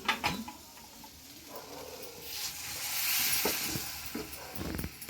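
A small splash of water hits a hot cooking pan holding mashed tomato and coconut, setting off a rising hiss and sizzle with occasional stirring knocks, close by and without talk.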